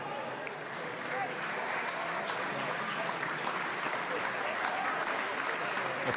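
A French stadium crowd at an Under-20 rugby match between England and South Africa gives steady, sustained applause, a dense wash of clapping heard from within the stands for the whole stretch.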